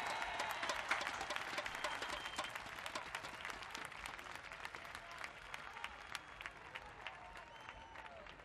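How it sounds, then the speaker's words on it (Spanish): Large audience applause fills a carnival queen gala in Las Palmas de Gran Canaria, 2014, a dense steady roar of clapping with scattered sharp claps, sustained evenly throughout without fading. "A ver ese aplauso que se escuche en todos los rincones del archipiélago."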